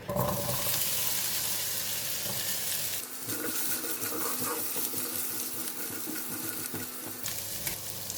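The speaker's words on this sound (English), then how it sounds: "we still have some oil in the pan and I'm going to put in the yam" Steady frying sizzle of yam cubes in oil with stirring clatter throughout, a brief shift midway as food is tossed around, continuous and fairly close.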